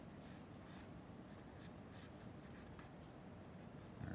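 Charcoal rubbed and blended on paper during a portrait drawing, heard as faint, close, repeated soft scrubbing strokes in an irregular rhythm, with no talk.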